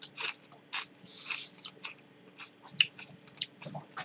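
Someone chews buttered potato, producing close, irregular wet chewing and soft crunchy bites in quick bursts against a quiet background.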